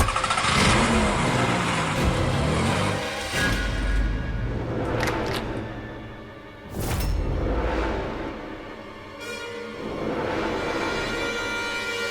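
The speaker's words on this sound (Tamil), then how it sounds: "வண்டி எடு." A car engine starts and the vehicle pulls away with revving and whooshing bursts, loud and close, in a Tamil television serial scene, with no voices heard.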